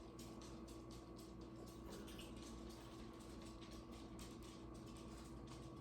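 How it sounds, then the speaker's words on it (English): Tap water runs steadily into a coffee pitcher for Cafe Du Monde coffee, a constant soft splashing rush with no talking. "You guys have seen water run into a pitcher before"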